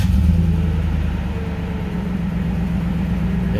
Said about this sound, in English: now we'll start the vehicle and let it run for a little while